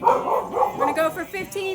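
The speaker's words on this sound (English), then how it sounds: "Sorry about the dogs barking in the background." Dogs bark in the background during a home workout session, a few sharp barks woven under a person's instructional talking.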